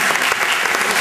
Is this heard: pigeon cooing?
no